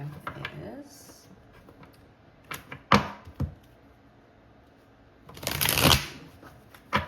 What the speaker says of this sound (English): I like to do a lot of shuffling